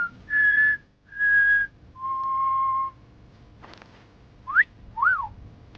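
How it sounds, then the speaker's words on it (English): A person whistles a series of notes outdoors at night: three sustained steady tones followed by short rising and up-down swooping whistles, fairly close and loud over quiet background. "next thing, whistling"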